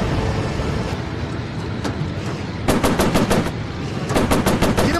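Rapid bursts of warplane machine-gun fire from a Pacific air battle in a VR game, loud and close, rattling twice in the second half over a steady engine drone.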